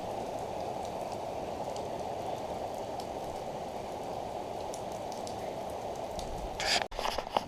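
A continuous rainfall hiss drums on a small wooden-stove cabin roof in Afan Forest, Wales, steady throughout, then a sudden bump and rustle near the end.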